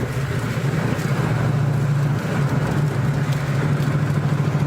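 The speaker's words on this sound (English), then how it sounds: "Burble tuning." Car engine with burble tuning ticking over at idle, a loud, steady low rumble with slight pulsing throughout, close up and without voices.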